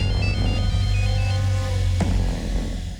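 A telephone rings with a steady electronic tone over a low background hum, loud and close, with a sharp click near the end; no one speaks.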